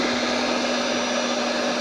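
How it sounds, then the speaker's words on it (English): An electric hand mixer whips egg whites for homemade pancakes with a loud, steady, even motor whine that runs unbroken the whole time, with no talking. "Now let's mix up the egg yolks."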